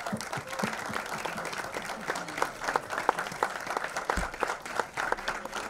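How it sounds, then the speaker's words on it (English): Audience applause at a Bollywood film trailer launch with Rajkummar Rao, Sharad Kelkar and Tushar Hiranandani, a sustained crowd clapping with sharp individual claps standing out, steady and fairly loud throughout. "give them all a big round of applause, ladies and gentlemen"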